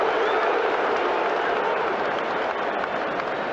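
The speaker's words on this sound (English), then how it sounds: "I thought they were booing, but they're actually shouting shoot, aren't they, to Pope?" A football crowd roars at St James' Park during a Premier League match between Newcastle United and Liverpool, shouting at goalkeeper Nick Pope. The loud, dense stadium noise holds steady throughout with no clear individual voices.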